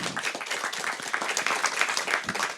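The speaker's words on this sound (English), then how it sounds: "Please give him a round of applause" Audience applause at a panel discussion on LGBTIQ+ justice, dense steady clapping filling the room for a couple of seconds with a faint murmur beneath.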